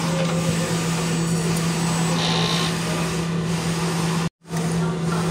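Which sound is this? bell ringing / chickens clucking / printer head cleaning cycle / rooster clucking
printer head cleaning cycle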